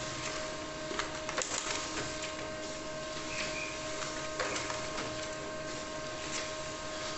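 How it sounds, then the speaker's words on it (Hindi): A Pantum P2200 monochrome laser printer runs pages through, with a steady quiet mechanical whir and faint clicks and rustles of paper feeding, close by with no talking. "नीचे से आपका देख सकते हो प्रिंट हो रहा है"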